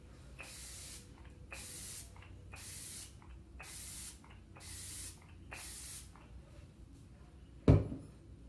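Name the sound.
setting spray being sprayed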